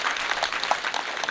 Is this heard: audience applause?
yes